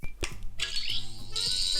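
A Doctor Who sonic screwdriver toy plays its original built-in electronic sound, a shrill warbling whine that swells abruptly louder, with a couple of clicks at the start.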